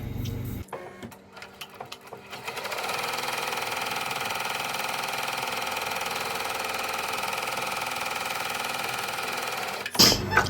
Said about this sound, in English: we are going to sew the last stitch around to sew the back fabric onto